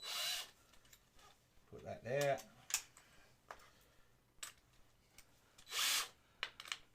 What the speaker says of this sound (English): I would go over it with a dome buff in a drill